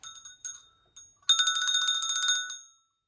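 A bicycle bell rings, a few quick single dings followed by a rapid run of repeated rings lasting about a second, clear and close with no voices.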